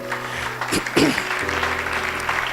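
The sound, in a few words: church congregation applauding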